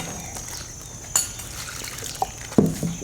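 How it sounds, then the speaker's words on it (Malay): Sugar syrup pours into batter for crispy kuih karas, a faint liquid trickle with a few soft drips and splashes close by, no talking. "Dia bubuh air gula tu agak-agak saja."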